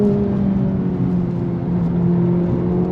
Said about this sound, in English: once again, first gear, on throttle, here we go